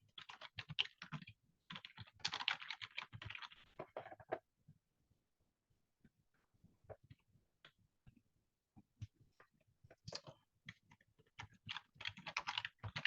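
Computer keyboard typing code, quick close clatters of keystrokes in bursts with a pause of sparse taps in the middle, quiet and alone.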